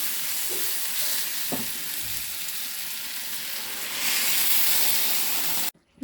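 Water poured into a hot pan of spiced dal and vegetables sets off a loud, steady sizzling hiss that swells in intensity partway through, with a few soft clinks of a utensil, before cutting off abruptly.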